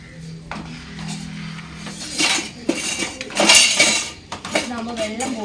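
Washed metal dishes and vessels are shifted from one place to another, giving several loud clanks, scrapes and clinks in an uneven rhythm.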